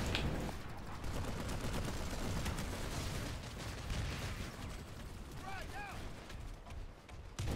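Rapid close-quarters hipfire bursts from a weapon in the sci-fi shooter PlanetSide 2, a dense stream of gunfire and battle noise running steadily through the whole stretch.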